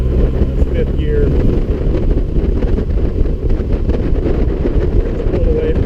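A 2013 Honda CB1100 motorcycle pulls away in fifth gear from low revs, its engine a steady low drone largely buried under constant, heavy wind buffeting across the microphone.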